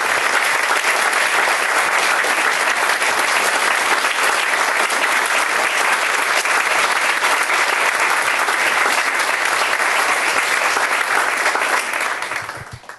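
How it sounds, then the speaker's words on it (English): Loud, dense audience applause at an award ceremony for standing finalists and winners, sustained and even for about twelve seconds before fading quickly. "let's give them another round of applause"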